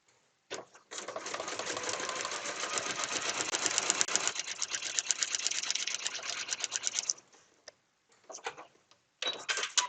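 A sewing machine stitching fabric for a foundation paper-pieced quilt block, a close, fast mechanical whirr in one long run of about six seconds, then short bursts after pauses.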